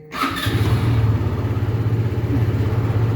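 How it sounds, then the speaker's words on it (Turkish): A Sym Symphony ST 200i ABS scooter engine cranks and catches, then settles into a steady, close, low idle that runs unbroken to the end. "Motoru bir çalıştıralım."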